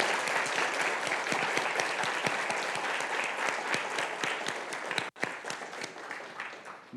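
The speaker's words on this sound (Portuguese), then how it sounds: "Essas palmas serão também para você." An audience claps after a scientific presentation on quantum tunnelling, sustained applause with distinct individual claps, fading slightly before a brief cut and then resuming more sparsely.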